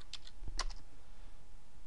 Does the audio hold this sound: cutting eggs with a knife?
no